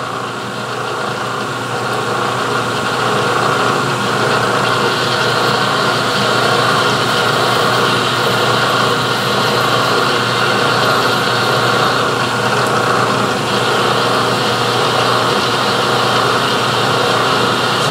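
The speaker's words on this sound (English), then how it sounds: "now we're going to need to slow it down a little more for reaming" A machine tool turns slowly, reaming an oiled 7/16-inch hole in a carriage stop body part, giving a steady, even motor hum and mechanical whir that runs unbroken throughout and that is close and fairly loud.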